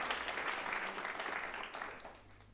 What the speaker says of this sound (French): Vous pouvez applaudir le Seigneur pour ça.